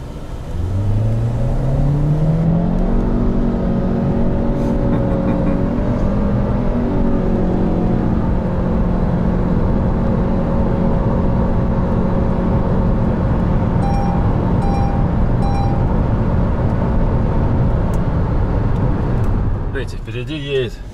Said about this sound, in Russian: Сейчас вот мы с перекрестка попробуем тронуться.